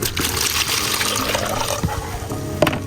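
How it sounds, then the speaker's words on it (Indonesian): Dirty water from a hydroponic mustard-greens growing tray splashes and pours steadily into a bucket, close and continuous, with a small knock near the end. "Dan airnya kotor ya, kita masukkan ember."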